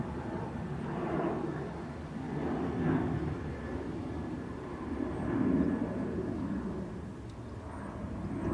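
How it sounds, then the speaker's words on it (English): A Ryanair jet bound for Edinburgh moves at Dublin Airport, a moderate, distant jet rumble that swells and fades in slow surges. "There's your Ryanair to Edinburgh."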